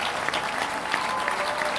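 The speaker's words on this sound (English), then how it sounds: "You can't be clapping like that" Audience members at a church ministry gathering clap steadily, a thick, even wash of many hands filling the room for a short stretch, with faint crowd murmur underneath.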